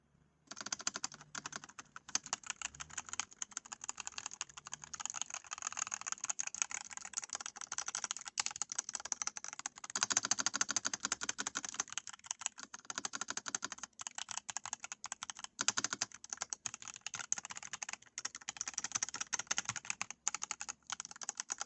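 Typing on an Epomaker CIDOO ABM098 compact 1800-style mechanical keyboard: a steady, close-up stream of crisp key clacks with brief pauses, loud and alone with no talk.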